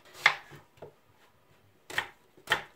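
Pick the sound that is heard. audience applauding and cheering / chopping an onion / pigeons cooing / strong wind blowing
chopping an onion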